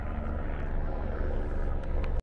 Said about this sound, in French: il y a un hélicoptère là-bas qui est à notre recherche